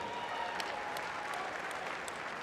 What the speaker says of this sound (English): one more round of applause for the Bill Lewis Scholarship winners, Melissa Pajensky and Gage Rethwish